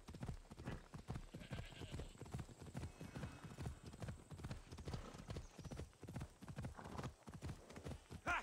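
Horse hooves in the video game Assassin's Creed Odyssey clip-clop in a quick, steady rhythm, close and continuous, with the uneven cadence of a trotting horse and no talking.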